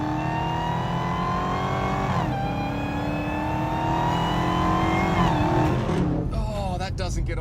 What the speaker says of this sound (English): you've got that supercharger scream up front